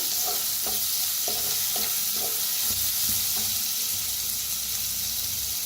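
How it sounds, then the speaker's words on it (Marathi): Ground spice paste with asafoetida roasting in a hot pan, a dense steady sizzle with a series of regular spatula scrapes and taps early on, close and loud. "वाटण बनवून घेतलं ते, आता भाजून घेऊया"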